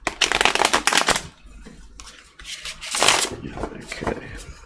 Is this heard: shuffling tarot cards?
yes